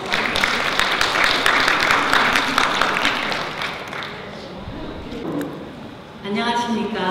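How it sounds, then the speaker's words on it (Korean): An audience at the Korea Flower Design Association chairperson inauguration ceremony claps in a dense, sustained burst that fades after a few seconds, then a voice starts speaking over a microphone. "이사장 나오실 때 큰 박수 부탁드립니다"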